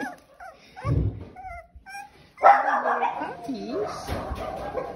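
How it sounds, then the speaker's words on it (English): Cockapoo puppies yip and whimper in short, high bursts, with a person talking over them nearby. "here are the puppies in the background who would like all this attention."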